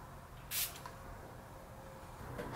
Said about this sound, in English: Last thing, setting spray, which we're back to the Tarte Rainforest of the Sea Marine Boosting